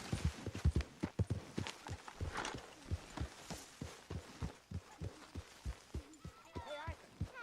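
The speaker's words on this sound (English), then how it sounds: "get that horse out of here." Horse hooves clip-clop in a steady walking rhythm in the video game Red Dead Redemption 2, close and regular, with a brief whinny-like sound near the end.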